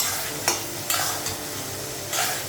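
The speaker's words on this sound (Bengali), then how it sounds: "পেঁয়াজটা একটু ভেজে নিয়ে বাকি মশলাগুলো লাগাবো" Onions fry in a pan with a steady sizzle, and a utensil stirs them several times with sharp scraping strokes.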